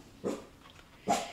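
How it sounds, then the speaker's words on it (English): A dog gives two short barks at moderate distance, spaced apart with quiet between them and no talk. "Hey, why are you barking?"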